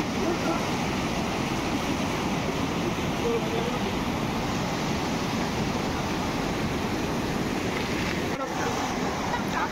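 A river rushes steadily in the open as someone waits to cross it, a loud, unbroken broadband roar of flowing water with wind noise on the microphone throughout.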